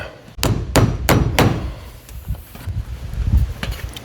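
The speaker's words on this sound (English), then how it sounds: "I'm gonna go ahead and nail that down. I'm using galvanized ring shank nails." Galvanized ring shank nails are hammered into a shed roof, with four loud, evenly spaced close hammer blows followed by lighter taps and a softer thud.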